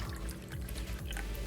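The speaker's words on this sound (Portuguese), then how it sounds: "eu vou colocar aqui primeiro a água" Water being poured into a bread machine pan as the first ingredient for a vegan bread dough: a steady, close pouring and trickling that runs unbroken through the whole short stretch, with no voices.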